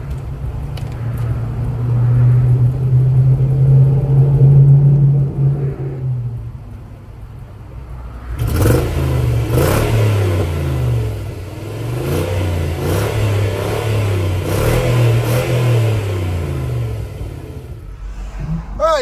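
A cheap, neglected car idling and then driving in drive gear, its engine rumbling with rising and falling revs in a steady rhythm, close by and fairly loud, with no talking.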